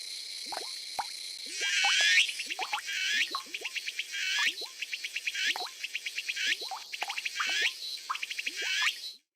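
Cicadas chirping in the video game Zelda Triforce Heroes, a repeated pattern of rapid buzzing chirp bursts mixed with springy boing-like sounds, fairly close and clear with no talking.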